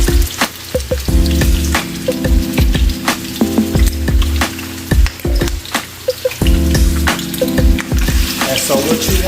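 Oxtails frying in oil over medium-high heat, a loud, continuous sizzle and crackle with frequent sharp pops and spatters running steadily throughout, close and without speech.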